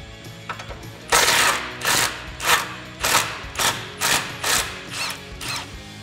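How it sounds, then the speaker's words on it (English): A 10mm socket on a ratchet loosens brake line bracket bolts on a Jeep Wrangler JK frame, giving about eight quick, close, metallic ratcheting bursts in an uneven rhythm. "I'm going to use a 10mm socket in order to do that."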